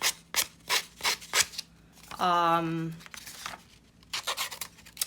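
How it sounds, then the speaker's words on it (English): Scissors cutting through journal paper, a single crisp snip-and-slice stroke lasting under a second, surrounded by quieter rustling and handling taps at close range. "You can just use your scissors."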